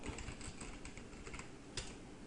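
Commands being typed on a computer keyboard: a steady run of quick, light key clicks at close range, fairly quiet, with no talking over them.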